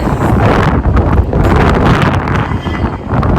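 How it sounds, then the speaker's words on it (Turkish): Strong wind buffets the microphone throughout, a loud continuous low rumble with gusty swells, nothing else clearly audible. "Şu an sesim çok kötü gelmiş olabilir veya çok rüzgar size gelmiş olabilir"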